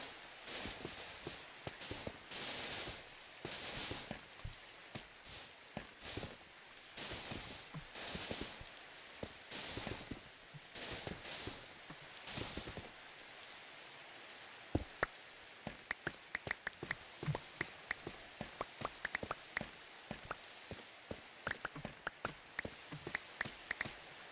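Night-time rain falls in a sandbox building game as a faint, steady patter, with a rush of drops early on and scattered ticking drips later, and no voices.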